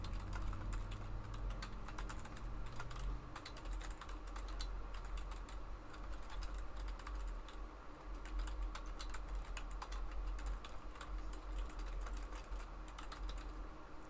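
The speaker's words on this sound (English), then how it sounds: "I gotta type now." Rapid continuous typing on a computer keyboard during a coding speed test, dense clattering keystrokes over a low steady hum.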